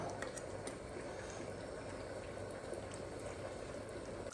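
Fish curry boils in a pot on the stove, giving a steady, close bubbling simmer that runs evenly throughout at low volume with no talking.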